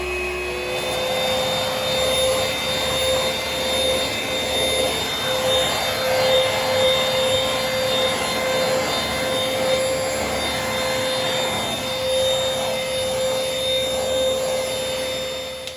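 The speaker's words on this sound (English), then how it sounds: "you can see the Hoover in action here, spinning around. And you can hear it is a little bit on the loud side" A Hoover H-Free 800 cordless vacuum cleaner runs steadily nearby with a constant whining, whooshing drone and a high tonal hum, no voices.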